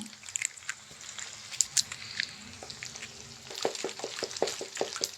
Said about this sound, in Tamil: இதே பேனில் லைட்டாக சைடில் கொஞ்சம் எண்ணெய் ஊற்றி உடச்சி ஊற்றி விட்டுடலாம்